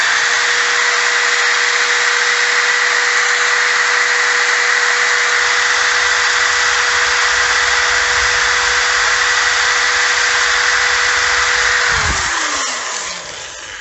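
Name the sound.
steel wire brush scrubbing rust off a Cadillac CTS brake hub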